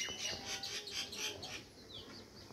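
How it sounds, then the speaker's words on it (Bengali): Outdoor birds calling in a quick series of bright, close chirps and tweets over soft background noise, without talking. "চারিদিকে শুধু পাখির ডাক আর পাখির ডাক"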